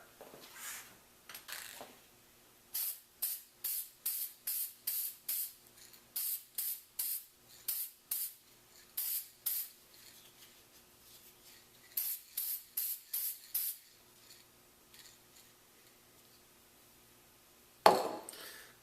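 Short bursts of aerosol spray applying polyacrylic and polyurethane coats to a handmade crankbait fishing lure, each hiss about half a second long, fired in rapid rhythmic runs with pauses, close and fairly quiet, ending with a louder clunk.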